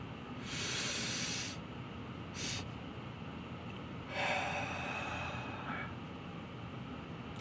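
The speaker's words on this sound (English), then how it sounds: "you want to be breathing in through your nose." Deliberate nasal inhalations, demonstrated as a breathing technique: two long, loud hissing breaths in through the nose, each a few seconds, with a short sniff between them. Close and alone, with no talking.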